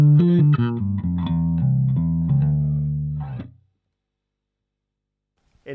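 An electric guitar played through an Orange Crush 50 amplifier with distortion rings out in a short run of harmonically rich, overdriven notes, then fades into silence.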